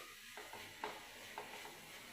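Onions sautéing in a pan for a Kerala beef olathu, heard as a quiet, steady sizzle with soft stirring scrapes and a couple of brief metallic clinks, no voices.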